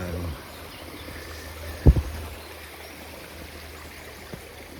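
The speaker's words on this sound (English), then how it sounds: "Coming up to a Camino river crossing." Steady low rushing of a river at a Camino Portugués crossing between Rubiaes and Tui, with a couple of brief knocks partway through.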